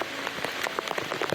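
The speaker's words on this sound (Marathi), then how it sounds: "खतरनाक पाऊस सुरू झाला आहे" Heavy monsoon rain at Avchitgad fort in the Konkan patters on nearby surfaces, a close, fairly faint spatter of distinct drops over a soft steady hiss.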